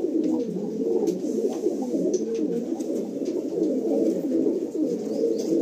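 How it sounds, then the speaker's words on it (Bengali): Male pigeons in a loft give a dense, continuous chorus of low, throaty cooing, several birds overlapping at steady loudness throughout with no pauses. "ভাইয়ের লফটে রয়েছে নর পায়রা"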